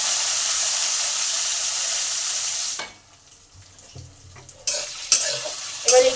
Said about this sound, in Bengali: এবার বিউলির ডাল আর ছোলার ডালকে ধুয়ে দিয়ে দিলাম।